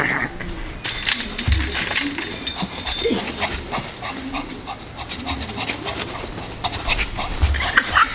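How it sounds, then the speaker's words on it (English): A small pug-like dog being chased around indoors, panting and giving brief whimpers amid scuffling and thumping footsteps, close to the microphone, with a few faint voice sounds. "Apologies for chasing my dog around for 10 minutes. He's like a tiny pug."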